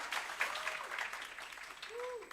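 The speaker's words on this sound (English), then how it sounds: "One more time, ladies and gentlemen, a round of applause for Chipo from Nedbank." Scattered applause from a workshop audience in Atteridgeville for Chipo from Nedbank, a moderate patter of claps with a faint voice or tone rising briefly under it.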